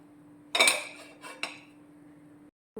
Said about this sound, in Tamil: ஒரு குக்கர் அடுப்பில் வச்சுக்கோங்க